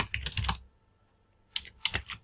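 Fingers tap out a prompt on a computer keyboard: a close, rapid flurry of keystrokes, a short silence, then another quick burst of clicks.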